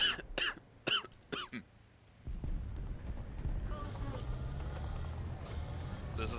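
Several sharp coughs and throat-clearing bursts in quick succession right after laughter, loud and close, followed by a steady low engine rumble from a military vehicle in a game.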